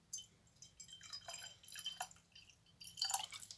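Tap water poured into an old glass jar, a faint trickle of small drips and splashes at close range in a quiet room.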